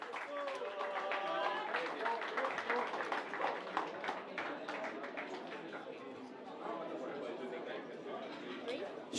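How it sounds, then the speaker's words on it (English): Audience applause at a poker final table, a crowd clapping steadily in a room with scattered chatter, moderately distant and continuing under a voice speaking. "Big round of applause for Nishan Sharma and John Costiniano."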